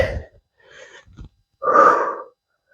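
Heavy breathing during a home cardio workout: a sharp exhale, a softer breath, then a loud, long wheezy breath out, close to the mic with quiet gaps between.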